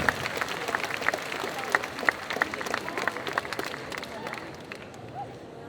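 An audience applauds after an entry at a solo cosplay contest at Japan Addict Z 2022. The claps are scattered and lively, with crowd murmur underneath, and they thin out and fade toward the end.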